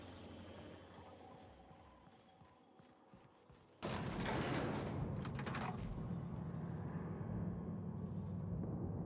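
Gunfire in The Outer Worlds video game starts as a faint rumble, then erupts into a loud, dense burst of rapid shots that keeps going to the end.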